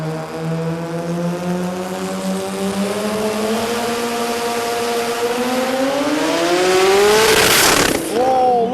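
A sports compact drag car on an Australian strip launches and accelerates hard, its engine rising in pitch through a long, loud pull before a gear change near the end.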